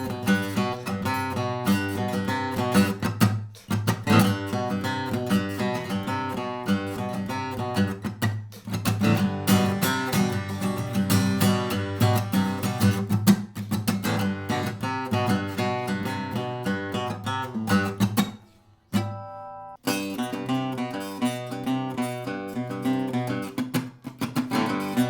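Acoustic guitar played with a percussive picking technique, steady rhythmic plucks and body taps mixed with ringing chords, close and continuous, with a short pause near the end before the pattern resumes.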